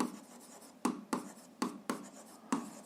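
A pen writes on paper during an algebra exercise, several faint, close scratchy strokes in quick irregular bursts, with no talking.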